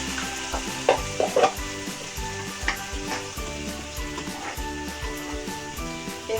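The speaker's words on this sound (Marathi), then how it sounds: "एखादा मिनिट आपल्याला हा मसाला आहे ना तेलात चांगला तळून द्यायचा" Onion, garlic and masala paste frying in oil for a soybean curry gives a steady close sizzle with occasional sharper crackles and stirring bursts, set against a tonal, rhythmic background that may be music.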